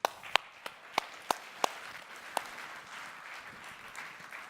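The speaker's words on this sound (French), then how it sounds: "On peut l'applaudir" Sparse, scattered claps from a small conference audience at a professional seminar, a handful of distinct sharp claps early on, then fading into a low murmur of room noise.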